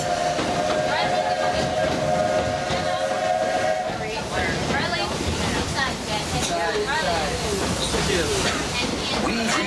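A steam train whistle sounds at the start, then the Walt Disney World Railroad steam train at Magic Kingdom rumbles and chugs along steadily under music and bright chiming tones.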